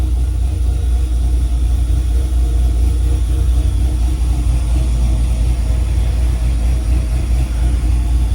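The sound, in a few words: car engine idling after startup RPM flare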